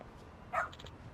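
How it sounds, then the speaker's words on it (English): A dog in the video game Lost Judgment gives a single short bark followed by a few quick, quieter yips. The sound is faint and set against low background ambience. "Is that a dog?"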